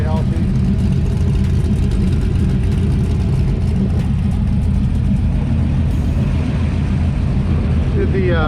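An LS-swapped Chevrolet Camaro IROC-Z runs with a healthy, steady engine rumble close up, a dense low idle holding throughout with a brief lift near the end.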